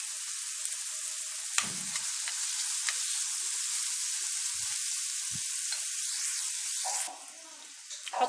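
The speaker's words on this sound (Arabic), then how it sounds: "انا حطيت بصل على البوتاجاز عشان اعصر فيها اللحمه عشان احشيها" Onion frying on a gas stove gives a steady, close hiss and sizzle that runs on without a break, with a few soft clicks and knocks and no one talking.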